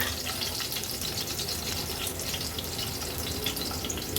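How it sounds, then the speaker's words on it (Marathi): Crushed garlic cloves and green chillies frying in hot oil for an Agri Koli-style tempering, a soft, steady crackling sizzle heard close by with no voices. "लसूण तेलावर असा परतून घ्यायचा आहे"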